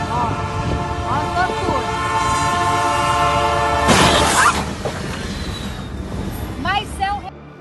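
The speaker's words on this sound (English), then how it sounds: "CSX train hits car stuck at level crossing." A CSX train's horn blares in steady, sustained tones at a level crossing, loud and close, followed by a crash of impact and shattering noise, with shocked voices talking over it.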